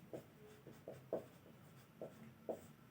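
Pen strokes scratching on paper while working a Class 10 UP Board mathematics exam solution, coming as about five short, separate scribbles in an irregular rhythm, close and fairly quiet with no voice over them.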